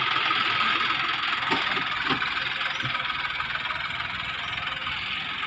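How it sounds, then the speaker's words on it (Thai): A John Deere 5050D tractor's three-cylinder 50 hp engine runs steadily throughout at a loud, constant idle-like drone, with a few faint knocks partway through and no talk. "ตัวนี้เป็นเครื่องสามสูบนะครับห้าสิบแรงนะครับ"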